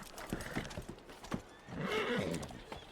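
A horse in a roleplay video game neighs and its hooves clip-clop in a brief rhythm, up close and clear, with a louder whinny rising in the middle and no talk over it.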